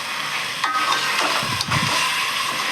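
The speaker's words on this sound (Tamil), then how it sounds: "இப்போ வதக்கியாச்சு நல்லா வதங்கிடுச்சு" Onions sauté and sizzle in a pan while cooking country chicken curry, a steady close frying hiss broken by a few stirring scrapes.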